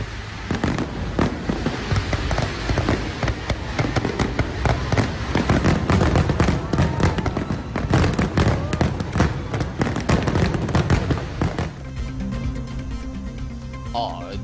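Fireworks burst at the inauguration of the 105-metre Palm Fountain, a dense rapid barrage of loud crackling pops and bangs that fills most of the stretch before thinning out, heard beneath a voice speaking.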